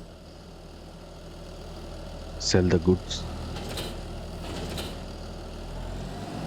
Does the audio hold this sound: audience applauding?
no